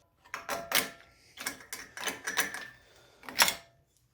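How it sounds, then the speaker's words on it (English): Metal anti-squeal clips being pried off the front brake calipers of a BMW F30, a string of sharp clicks and scraping clacks in irregular bursts, close up with no talking. "Remove the anti-squeal clips."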